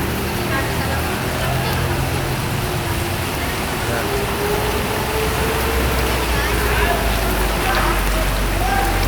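Heavy rain pours steadily in a flood-hit area, a dense, constant roar of water that stays loud and unbroken throughout, with a low rumble underneath.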